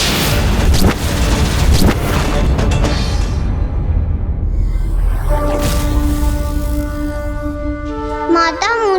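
A loud, rumbling blast fills the clip with heavy low booms, then a sustained ringing, rising tone swells near the end.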